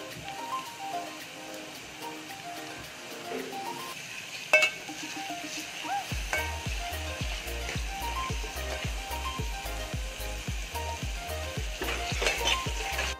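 Garlic hits hot oil for restaurant-style dal tadka, a bright close sizzle and frying hiss that builds and holds, with occasional light clinks of a pan or spoon.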